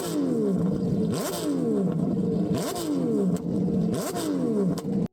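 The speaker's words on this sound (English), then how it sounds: "they started revving the engine" Porsche race car engine revved hard, loud and close, in repeated cycles of a rising howl that snaps off into a falling pitch before climbing again, about four sharp revs in a row with no talk.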